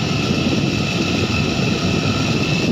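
A 12 V DC motor salvaged from a discarded sprayer machine, run from a 12-volt adapter as a high-speed fan, spins with a steady, loud whirring drone and a constant tonal whine that holds throughout.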